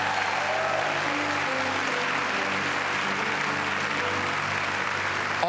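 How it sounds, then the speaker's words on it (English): Sustained applause from a large audience, steady and even throughout, with no voices standing out. "all these 8th grade students deserve your applause right now"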